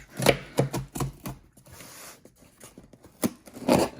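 A blade cutting open a cardboard shipping box holding a Hot Wheels order: a run of quick, close scratchy slices and tears, then a short pause, then a few more sharp cuts.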